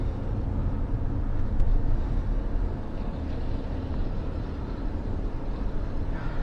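A 2021 Kia Sorento V6 engine growls while driving, giving a steady, moderately loud low rumble under road noise with no speech.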